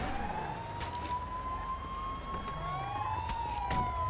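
A police car siren wails in the game GTA V, a loud continuous rising and falling tone over engine rumble, with a second siren layered in briefly.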